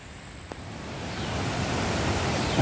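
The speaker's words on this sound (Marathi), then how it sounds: "आपल्या डाव्या हाताला आता ओढा आहे, तुम्हाला आवाज येत असेल पाण्याचा." A steady broadband rush of water from a stream beside a forest footpath near the Thanale Buddhist Caves, continuous and swelling slightly louder toward the end.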